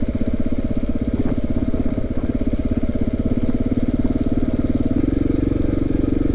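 A KTM 690 motorcycle engine runs steadily while riding a dirt trail up Schnebly Hill, a loud, close, even thumping drone at constant low revs without gear changes.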